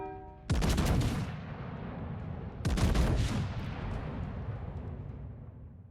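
Warship guns firing in a naval video game battle, heard as two heavy, booming salvos about two seconds apart, each with a long rumbling decay, with no talking.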